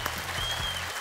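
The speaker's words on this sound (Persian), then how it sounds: "راحت تشویق کنید دوستا" Studio audience applauding on a Persian-language game show, a steady dense wash of clapping filling the whole moment without talk.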